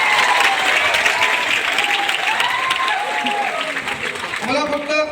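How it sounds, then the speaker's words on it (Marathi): Loud, sustained applause from an audience filling a hall in Nanded, steady clapping throughout with a voice rising over it near the end. "जोरदार टाळ्या होत्या"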